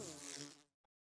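Bees in the Minecraft video game giving a short, faint buzz that cuts off abruptly, followed by a tiny click.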